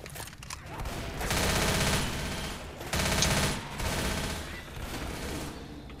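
Gunfire rattles in rapid sustained bursts against zombies in the video game Left 4 Dead, loud and close with brief gaps between volleys.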